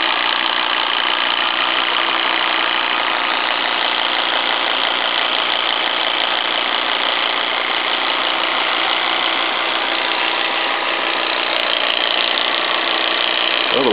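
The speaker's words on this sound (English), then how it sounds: "Stuart V10 engine." Stuart V10 live steam engine running on a vertical fire-tube boiler plant for a launch, giving a steady, continuous mechanical chugging drone at even loudness throughout, close and alone without talk.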